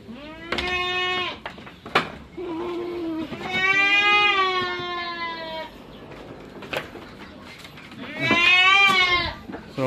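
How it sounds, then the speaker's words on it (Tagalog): Goats bleating loudly and repeatedly as they are let out of a farm pen after a Cotramycin treatment, several long wavering calls overlapping with short knocks between them. "Pinawalan na namin yung mga kambing."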